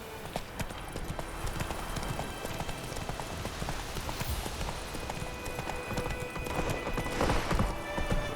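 Galloping horse hooves in The Witcher 3 video game, a fast, steady clip-clop rhythm close and continuous with faint ambient game sound beneath.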